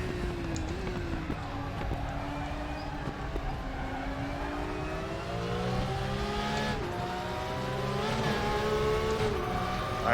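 A Porsche race car in the Raceroom racing game, its engine revving and shifting through gears with rising and falling whine and occasional tire noise, loud and continuous with no talk.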